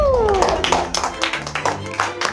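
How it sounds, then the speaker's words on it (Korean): A group of people clapping together in a classroom-style setting on a variety show, irregular bursts of applause over background talk and music. "인정하는 사람들은 모두 우리 한번 박수 한번."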